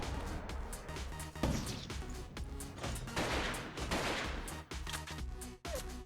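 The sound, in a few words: missile explosions in the video game Artificial Defense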